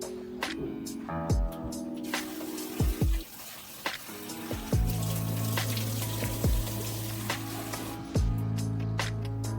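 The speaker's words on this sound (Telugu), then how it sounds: "ట్యాప్ వాటర్తో ఈ విధంగా 2 సార్లు కడుక్కున్న తర్వాత మరోసారి ఫిల్టర్ వాటర్తో శుభ్రంగా కడుక్కోవాలండి" Tap water runs and splashes over flattened rice (poha) being washed in a bowl, with steady flow, occasional drips and sharp knocks of handling, close and alone with no talk.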